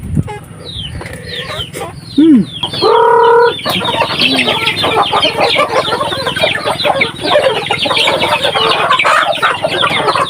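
Chickens cluck steadily nearby while a rooster lets out a loud crow partway through, with scattered bird calls filling the background.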